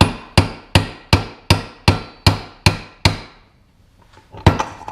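Hammer tapping a socket to drive the pinion out of a 2007-2014 Yukon, Tahoe, Silverado or Sierra front differential: eight evenly spaced, loud metallic strikes with ringing decay, a pause, then a few lighter taps.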